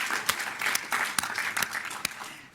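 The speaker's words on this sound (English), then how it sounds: "Please give a round of applause." A round of applause rises from an audience at a Philadelphia board meeting, a dense patter of many clapping hands with a few sharper claps standing out, moderately loud and steady throughout.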